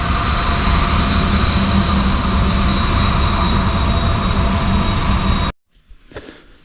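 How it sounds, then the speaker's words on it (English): Freight train with grain cars and coal cars rolling past a riverside campsite, a loud, continuous rumble with faint wheel squeal that holds steady, then cuts off abruptly, leaving quiet with a few faint handling noises. "Coal train right out my window. Well, that one's got grain cars and coal cars."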